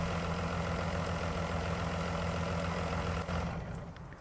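A vehicle engine in Farming Simulator 19 idles with a low, steady rumble, then cuts off near the end and fades away.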